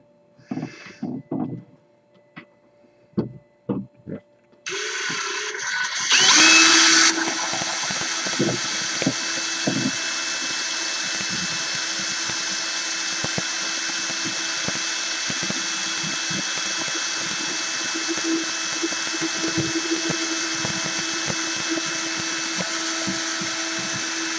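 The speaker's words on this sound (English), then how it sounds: "I actually drilled it too deep" A power drill bores into a painted model dinosaur, starting with a few short, close bursts and then running as a long, steady, loud whine with no talking.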